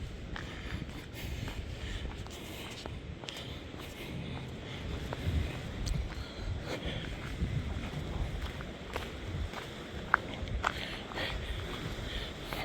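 Steady wind rushes and buffets across the microphone on a beach, a broad continuous roar with scattered knocks and faint voices in the background.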